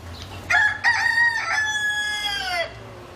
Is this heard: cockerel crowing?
yes